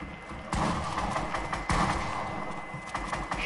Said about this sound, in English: Evan, stop shooting at me!